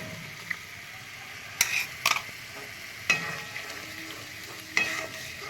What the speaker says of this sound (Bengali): এবারে আমি যে বাদামের পেস্টটা করেছিলাম, চারমগজ, কাজু বাদাম, কাঠবাদাম, পেস্টটা একটু দিয়ে দিচ্ছি।